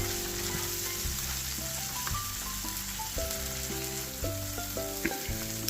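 Egg spread across a hot pan sizzles and fries alongside pork belly sisig, a steady close sizzle with light crackle running throughout.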